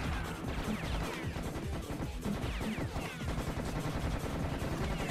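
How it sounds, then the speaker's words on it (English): Burst-fire gunshots in the video game Serious Sam HD: dense, rapid volleys of shots pile into a loud, continuous barrage with crashing impacts and no letup. "Burst fire, dude. Burst fire."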